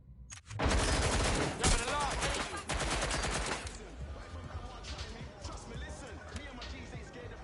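Gunfire in Watch Dogs Legion rattles in a loud, dense burst of rapid shots for a few seconds, then gives way to quieter scattered action sounds, with a voice over it.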